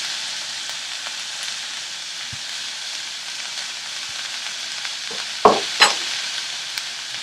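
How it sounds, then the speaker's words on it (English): Steady broadband sizzling of onions frying in a pan for soyabean and spinach pulao, continuous and close, with a couple of brief clatters near the end. "our onions have begun sizzling"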